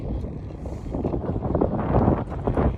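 Dry wind gusts outdoors, buffeting the microphone in a continuous rough roar that swells toward the end, close and loud with no talk.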